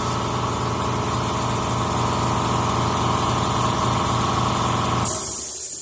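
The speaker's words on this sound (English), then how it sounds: "So that compressor, this size compressor, just kicked on at 40 seconds." A steady, loud mechanical drone of a running air compressor, kicking on while an air sander runs at 90 psi, that cuts off abruptly near the end, leaving quieter hiss.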